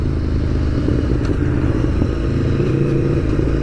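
An Aprilia V4 Tuono Factory motorcycle is ridden, its engine a loud, close, steady rumble with wind noise and faint mechanical clatter throughout, no voices.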